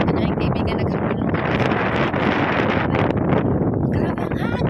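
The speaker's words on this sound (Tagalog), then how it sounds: "Grabe ang hangin." Strong wind gusts outdoors at a lakeside park in Germany in spring, a continuous loud roar buffeting the microphone with rustling throughout, and people's voices partly buried beneath it.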